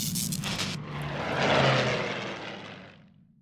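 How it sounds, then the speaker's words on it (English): A P-40 Warhawk propeller fighter roars past at an airshow, its engine drone swelling as it approaches and then fading away into the distance. "the P-40 Warhawk American Dream coming"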